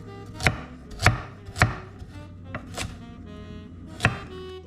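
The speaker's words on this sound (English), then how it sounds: "Now, let's cut up some carrots." A knife chops carrots on a board in five sharp, distinct strikes spaced about a second apart, each a crisp close thunk, with quiet between them.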